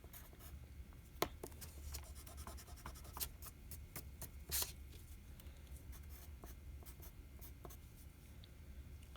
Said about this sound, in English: we're gonna write it down on this piece of paper